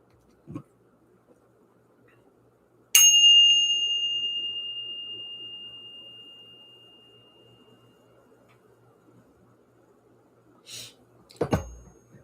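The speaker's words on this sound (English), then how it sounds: "Let's ring the bell." A bell struck once during a spiritual morning gathering, giving a single bright strike whose clear ringing tone fades slowly over several seconds in a quiet room, followed near the end by a few soft knocks.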